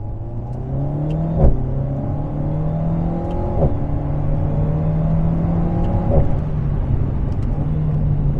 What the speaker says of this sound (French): Petite pétarade.